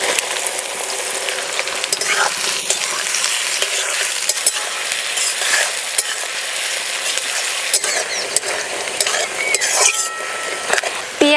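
Chopped onions fry in plenty of mustard oil in a kadai for beresta, a loud continuous sizzle broken by scraping stirs and occasional clinks of a spatula against the pan.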